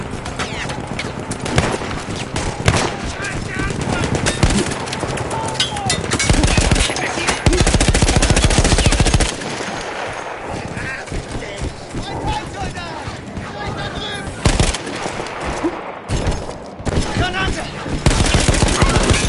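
Mounted machine gun firing in the World War I shooter Battlefield 1, long loud bursts of rapid gunfire with brief pauses between volleys and other battle noise around.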